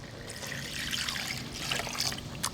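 Chicken broth poured from cans, a soft continuous trickling splash lasting a couple of seconds, close and fairly quiet with no talk.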